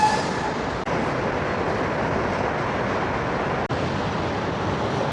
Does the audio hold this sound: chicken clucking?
no